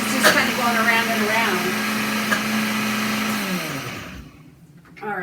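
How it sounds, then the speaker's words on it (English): A blender runs in a short, squat container while mixing cinnamon roll ingredients. It roars loud and close, then the motor winds down over about a second and stops, leaving brief quiet before a soft noise returns. "It's not blending as I would expect it."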